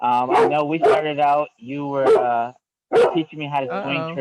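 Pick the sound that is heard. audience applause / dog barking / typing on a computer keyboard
dog barking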